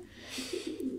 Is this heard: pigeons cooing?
yes